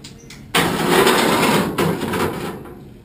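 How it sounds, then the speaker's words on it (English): Reciprocating saw cutting through the metal cage of an IBC tote, a loud, harsh buzzing rasp that starts abruptly and runs steadily with a short dip midway, close by. "I'll be using a sawzall to make these cuts."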